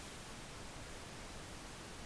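Steady, even hiss of pink noise, a smooth broadband rush with a deeper, softer tone than white noise, unchanging throughout.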